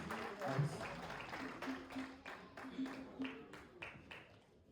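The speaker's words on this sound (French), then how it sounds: "Applaudis cet esprit" Congregation applauding during a French-language church service, soft scattered claps in a reverberant room, faint and fairly distant, with some voices under it.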